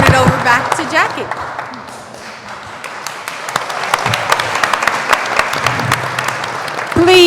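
A panel audience claps after a discussion event on sickle cell disease, the applause building into a steady crowded patter of hands with scattered sharp individual claps, fairly loud, with a brief voice at the start and end.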